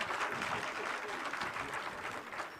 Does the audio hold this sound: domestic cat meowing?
no